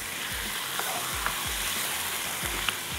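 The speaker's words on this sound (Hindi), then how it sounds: "और अब हम इसको थोड़ा सा भून लेते हैं।" Aloo tikki mixture with garlic and black pepper powder sautéing in a pan: a steady sizzle of frying under repeated soft scraping strokes of a spoon stirring the mash.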